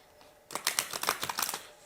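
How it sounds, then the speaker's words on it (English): A quick run of crisp, papery riffling taps as a deck of tarot cards is shuffled, close and fairly quiet, lasting about a second. "I'm going to shuffle quick."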